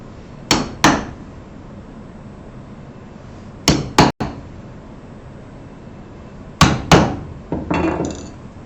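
A carpet awl is tapped into a wooden cutting board in three pairs of sharp, close knocks separated by pauses of a few seconds. A few lighter clicks follow the last pair.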